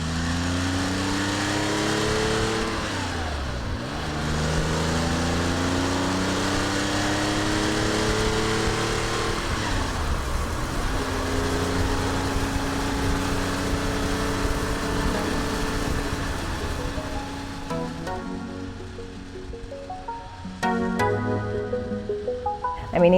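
A vintage air-cooled Porsche 911 E engine hums steadily while driving, rising and falling in pitch as it shifts through gears, with a throaty mechanical tone throughout.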